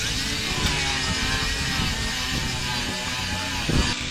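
A disc grinder scuffs the shine off a Dincel basement wall, a continuous loud, rough motor whine with gritty abrasion that holds steady for the whole stretch, with no talking.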